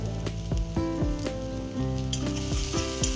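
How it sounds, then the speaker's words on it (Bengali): Garlic paste sizzling and frying in a pan for chicken curry, with a steady crackling hiss and repeated scraping stirs of a spatula at a regular rhythm, close and fairly loud, no voices. "এটাকে একটু ভালো করে নাড়িয়ে মিক্স করে নেব"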